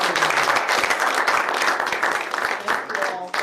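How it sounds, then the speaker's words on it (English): Attendees at a student government weekly senate meeting break into a full round of applause, dense clapping that runs throughout and thins near the end, with voices mixed in beneath it. "Otherwise, one more round of applause."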